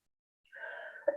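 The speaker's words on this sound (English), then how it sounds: "I have a cough too" A single brief, quiet cough bursts out near the end of an otherwise silent moment, close and isolated.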